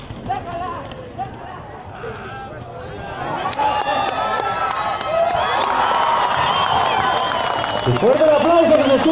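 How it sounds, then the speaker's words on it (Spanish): Crowd applause and cheering for a charro at a charrería rodeo at a town fair, swelling from scattered noise into a loud, sustained roar over the last few seconds, with a voice talking over it. "Fuerte el aplauso que se escucha para este gran charro"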